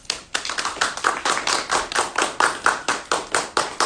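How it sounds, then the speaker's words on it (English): Students at a high school International Thespian Society induction clap for new inductees, a small group's crisp, evenly spaced claps in a steady rhythm of roughly sixteen beats, close and moderately loud. "Let's all give these new inductees a round of applause."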